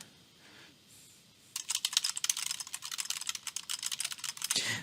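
Typing on a computer keyboard while writing a paper in a Word document: after a quiet start, a rapid, uneven stream of close, crisp key clicks runs to the end.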